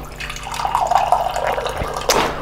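A Vitapur water dispenser pours cold water into a glass, a steady splashing trickle lasting a couple of seconds, close and clear with no talk.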